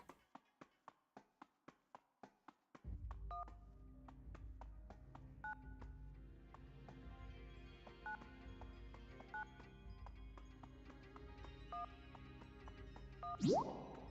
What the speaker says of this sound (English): It also sounds like an old-fashioned, you know, push-button phone.